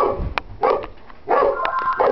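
A dog barks in short bursts indoors, three or four sharp barks with gaps between them, fairly close and loud with no talk over them.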